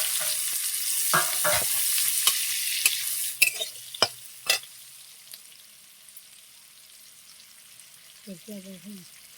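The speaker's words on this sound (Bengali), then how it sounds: "তারপরে দিয়ে দেবো পেঁয়াজটাকে লাল লাল করে আমি ভেজে নেব।" Onions frying with small bay leaves in hot oil hiss steadily and fade over time, interrupted by several sharp clacks of a spoon against the pan and a brief voice near the end.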